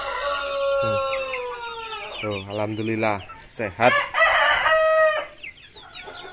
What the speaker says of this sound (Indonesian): Ini lingnan dan ayam-ayam hasil kawin silang Rhode Island Red nyampur jadi satu di sini.